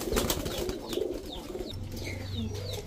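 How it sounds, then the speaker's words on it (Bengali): Pigeons at a pigeon seller's coo softly against steady background noise, with a low, drawn-out coo rising near the end and no one speaking. "এখন দেখাবো এক জোড়া বেজি কবুতর"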